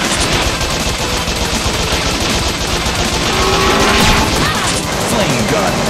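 Continuous machine gun fire from the run-and-gun video game Bot Vice, a dense loud rattle layered with crashes and game effects, steady throughout the whole stretch.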